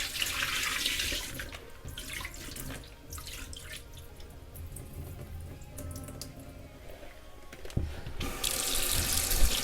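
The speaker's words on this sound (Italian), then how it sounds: "e le sciacquiamo con l'acqua fredda corrente." Cold tap water running steadily into a kitchen sink while potatoes are rinsed, a continuous close hiss and splash with brief shifts as the flow is disturbed.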